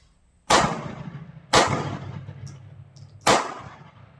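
A Sig Sauer P365 pistol fires steel-case ammunition outdoors: three loud, sharp shots at uneven intervals, each with a short ringing decay and no talking between them.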